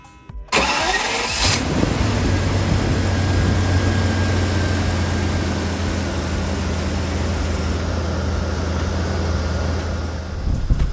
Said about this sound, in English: This engine runs perfectly.